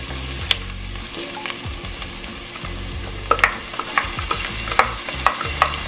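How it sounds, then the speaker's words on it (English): Garlic going into a pan of sizzling, cooked-down onions, a steady close frying hiss with scraping and stirring clacks from a utensil, growing busier toward the end, no talking. "I'm gonna add in the garlic."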